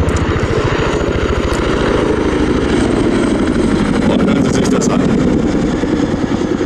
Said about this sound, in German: Luke will carry out another wingover at Crowd Center